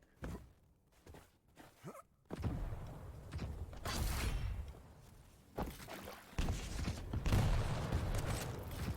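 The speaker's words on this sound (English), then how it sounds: "Rockets being fired off from Raisy to really set a precedent" Rockets launched in a Quake Pro League match between Raisy and Av3k, heard as several broad whooshing blasts and explosions that swell and fade in irregular bursts over busy game noise.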